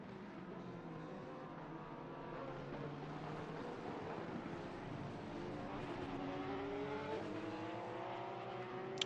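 A Porsche race car in a racing video game, engine note droning steadily with rising and falling pitch sweeps as it is worked through a series of curves, continuous and fairly loud with no voices.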